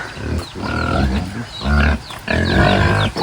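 Pigs being fed on a farm grunt and squeal loudly up close, several animals overlapping in a noisy, continuous clamor.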